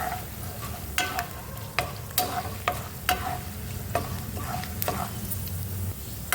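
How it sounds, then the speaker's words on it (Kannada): Mustard seeds and urad dal sizzling as they fry in a pan for lemon poha chitranna, a steady close hiss under regular scraping strokes of stirring, with no voices. "ಇದು ಫ್ರೈ ಆಗ್ತಾ ಇದ್ದಾಗೆ ಸಾಸಿವೆ ಹಾಕೋತಾ ಇದ್ದೀನಿ."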